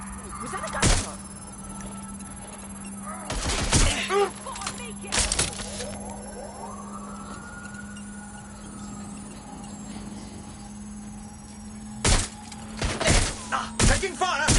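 Gunfire in the video game Watch Dogs Legion: several sharp, loud bursts of shots, some single and some in quick clusters, spread across a steady low electronic hum with quieter stretches between.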